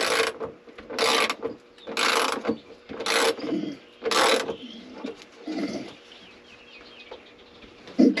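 A ratchet tightening nuts and screws during electrical rewiring work, five loud rasping ratchet strokes at a steady rhythm, then softer irregular clicking and handling noise.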